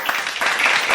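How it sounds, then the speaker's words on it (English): A brief, dense burst of applause, loud and close, lasting about a second. "Clap it up for Kevin and his inaugural analysis over here."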